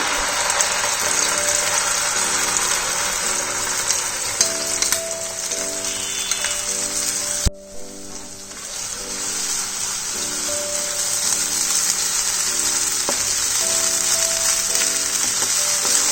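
Poppy seed and mustard paste frying in hot oil, a loud, steady crackling sizzle with a constant mechanical hum underneath and a brief dip partway through.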